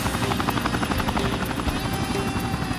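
Helicopter close overhead, its rotor thudding rapidly and evenly with a loud engine roar throughout, masking any other sound.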